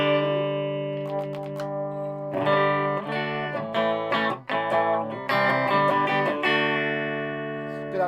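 Electric guitar played straight through an Orange TH30 amplifier with no pedal engaged, sustained chords and single notes ringing loud and close with a rich, slightly driven tone and several quick chord changes.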